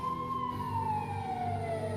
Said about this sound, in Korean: 얼마 지나지 않아 경찰차 소리가 들렸습니다.